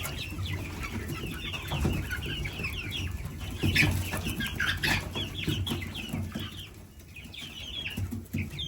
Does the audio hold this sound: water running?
no